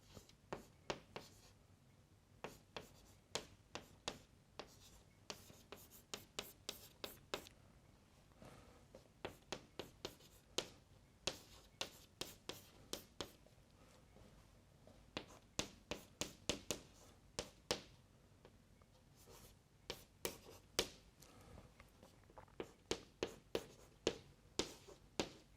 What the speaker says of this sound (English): here we have to do some writing